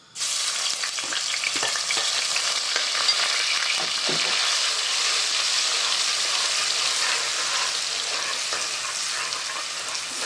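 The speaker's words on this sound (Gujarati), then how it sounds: "ચાલો તેલ થાય પછી લવણ નાખી દેવાનું" Onion fries in hot oil for a fish and cluster bean curry, a loud, steady, continuous sizzle with occasional stirring scrapes and no voices.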